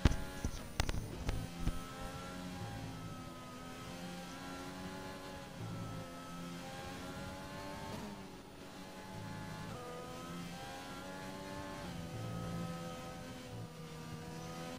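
A McLaren race car engine in an Xbox racing game of the Japanese Grand Prix drones steadily with rising and falling revs, a continuous mid-pitched whine through gear changes, with a few sharp clicks at the start.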